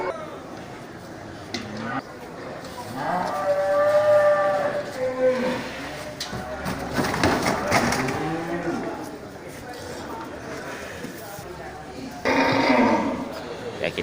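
Large cattle in a market shed give several drawn-out moos, some close and loud, with harmonic bellows rising and falling between stretches of background chatter and people talking nearby.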